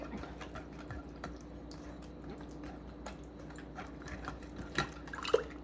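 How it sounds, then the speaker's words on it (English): Faint, irregular drips of whey falling from thick fermented kefir grains, soft wet taps scattered over a quiet background, with a couple of louder drops near the end. "Mary, all I'm getting is whey"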